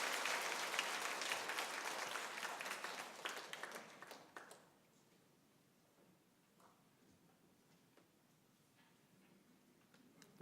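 A church congregation at a Sunday service claps to celebrate an infant baptism, the applause loud and dense at first, then thinning out and fading into quiet room tone with a few scattered claps.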